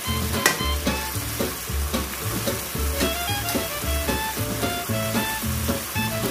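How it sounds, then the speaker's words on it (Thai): Carrots stir-fried in oil in a pan for a vegetarian Thai mushroom dish, giving a steady close sizzle with regular scraping strokes of the spatula throughout, and no one speaking. "แครอทเราอ่ะต้องถูกน้ำมันนะคะมันจะได้นิ่ม"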